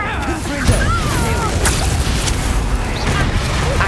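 A Confringo spell explosion in Hogwarts Legacy: a heavy blasting boom amid crackling magical effects and a steady rumbling bed, with a voice talking over it.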